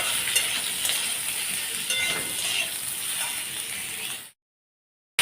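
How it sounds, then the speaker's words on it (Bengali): Sliced ridge gourd with black cumin seeds sizzles in a hot pan as it is stirred, giving a steady close frying hiss with light scraping and clatter that stops abruptly near the end. "আর এই যে কেটে রাখা ঝিঙেটা এটাও দিয়ে দিলাম। ঝিঙেটা একটু নাড়াচাড়া করে নিই।"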